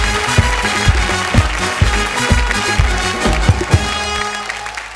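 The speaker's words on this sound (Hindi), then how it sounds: "तालियां for रोहन चावड़ा।" A studio audience applauds a comedian on a family comedy show, a full burst of clapping with a steady rhythmic beat under it, fading toward the end.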